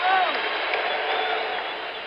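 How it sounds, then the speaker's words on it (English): Crowd at an NBA Finals basketball game between the 76ers and Trail Blazers gives a steady round of applause and cheering, a dense broad wash of noise filling the whole stretch at moderate level. "There goes Walton off for a round of applause"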